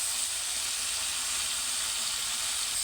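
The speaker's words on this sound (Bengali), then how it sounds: "আমি কিন্তু শুকনা মরিচটা ভাজিটা করবো অল্প করে আর কি শুকনা মরিচ দিয়ে দিচ্ছি" Dried red chillies sizzle in hot oil in a pan, a steady, close hiss that runs unbroken without pause.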